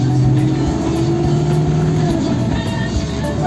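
A Land Rover Defender 110 double cab with a 2200 turbo diesel engine of about 122 horsepower runs with a steady, gruff drone nearby. Faint speech may sit under the engine noise.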